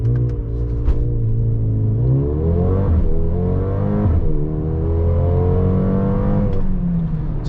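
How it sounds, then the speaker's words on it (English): A 2023 Mercedes GLB 35 AMG with an 8-speed dual-clutch gearbox launching from a race start, its engine revving hard and climbing in pitch with abrupt drops at each upshift, loud, close and continuous, no voices. "So we can try the race start here"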